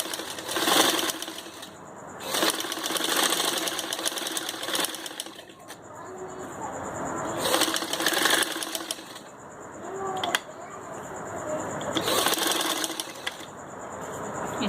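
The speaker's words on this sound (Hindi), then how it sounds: "जो हमने अंदर की साइड पे रखा है इसके ऊपर हम सिलाई लगा लेंगे।" A sewing machine stitching fabric while a turban is made, running in rapid mechanical bursts of stitching that start and stop several times, close and clear, with no talking.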